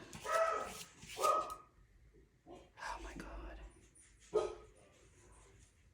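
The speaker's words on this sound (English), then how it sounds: "Sorry about my dogs." A couple of dogs bark sharply in short bursts, somewhat distant, with quiet whispery sounds between the barks.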